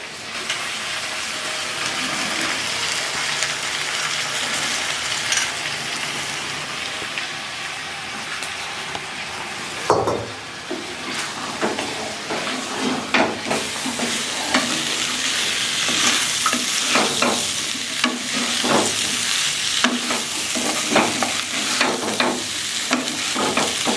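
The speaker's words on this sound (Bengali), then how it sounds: "মশলাগুলো কষানো হয়ে গেছে, এখন দিয়ে দিচ্ছি আলুগুলো। আর এইদিকে নিয়েছি মটরশুঁটিগুলো, এখন দিয়ে দিচ্ছি।" Potatoes and green peas dropped into a pan of frying spices, then stirred; a steady sizzle with a sharp clatter at the addition, followed by rhythmic spoon scrapes and rising frying hiss, close and without talk.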